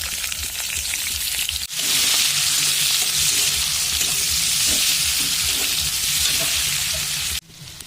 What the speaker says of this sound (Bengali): দিয়ে দিচ্ছি এবার জিরে ফোড়ন। এবার দিয়ে দিচ্ছি পেঁয়াজ।